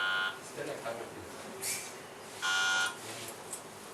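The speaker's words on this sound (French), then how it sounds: "on va retester une fois les buzzers" Quiz game buzzers sound in short bursts during a test, a few sharp electronic buzzes spaced apart, mixed with people talking in the background.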